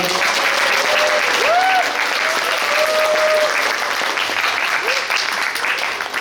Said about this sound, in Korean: 큰 박수 한번 먼저 부탁드리겠습니다